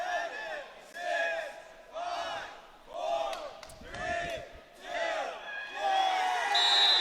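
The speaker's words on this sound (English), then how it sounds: "His crowd getting into it." A large crowd at a wrestling match chanting and cheering in rhythmic waves, roughly one surge per second, loud and distant-sounding, with a few thuds underneath.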